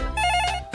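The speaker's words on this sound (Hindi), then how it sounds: "ओह, फोन आ रहा है।" A phone ringtone plays for an incoming call, a short tonal melody that sounds loud and near, briefly pausing before starting again, with no talk over it.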